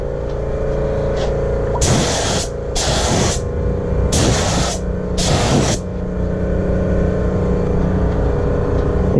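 Spray gun applying metal flake paint to a Toyota Cressida car fender, heard as four distinct hissing bursts of about a second each, evenly spaced over a steady low hum of compressor or shop noise, with no talking.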